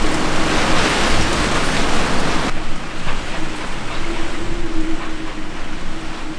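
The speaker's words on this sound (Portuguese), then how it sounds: "a chuva chegou e com fortes ventos" Rain arrives with strong winds outdoors, a loud, dense roar of wind and falling water that shifts abruptly partway through and then continues steadily.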